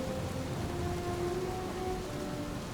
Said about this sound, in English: the rain effect is